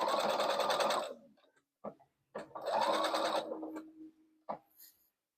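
A sewing machine runs in two stitching bursts along the bottom seam of a tote bag, each about a second long, separated by short clicks and handling noises, close and clear with no talking.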